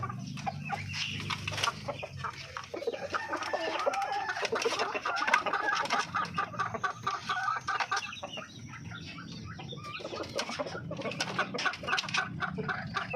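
Native Filipino darag chickens cluck and call steadily at a farm while being fed fruit and vegetables, with bird sounds layered throughout and no talking.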